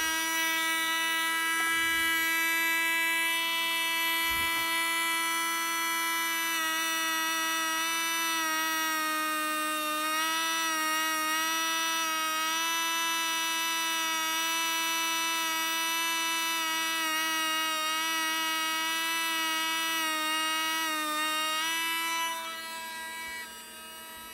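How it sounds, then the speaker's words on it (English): A Dremel rotary tool grinds down the edges of a Frankenstein's Monster mask, giving off a steady high-pitched motor whine with rich harmonics that continues alone for over twenty seconds, wavering slightly under load before easing off. "These edges are not horrible, but with the Dremel, I'll be able to"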